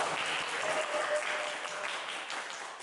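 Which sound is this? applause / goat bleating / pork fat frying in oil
applause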